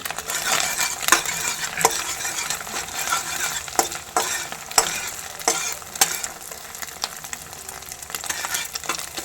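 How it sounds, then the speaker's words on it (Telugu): Green chillies stir-fried into egg fried rice: repeated scraping and clinking spatula strokes against the pan over a soft, ongoing sizzle. "ఈ పచ్చిమిర్చి వేసుకున్న తర్వాత ఒక నిమిషం అయితే మనం కలుపుకుంటూ ఉండాలండి"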